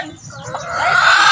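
Hen clucking close by, a short drawn-out rising cluck held for about a second.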